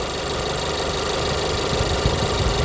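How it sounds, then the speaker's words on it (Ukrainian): A car engine running steadily after a starter test, a continuous close mechanical drone with a faint knocking texture and no breaks. "Стартер у нас працює добре, ну хоч тут все нормально."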